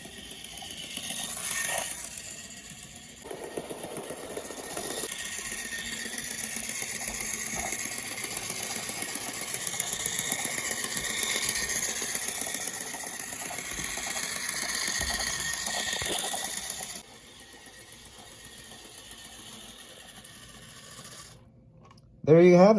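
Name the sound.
model train locomotive running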